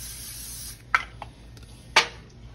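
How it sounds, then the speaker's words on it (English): Cooking spray hisses onto seasoned salmon on an air fryer pan in two short bursts, the second longer and louder, with faint handling noises between them. "I'm gonna put a little spray on top of here so the seasoning kind of sticks"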